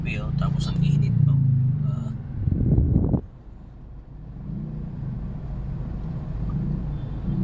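Heavy road traffic on EDSA near Mega Mall in the Philippines: a steady low engine rumble with a louder vehicle surge around the third second, then continued idling and rolling traffic, with people talking over it.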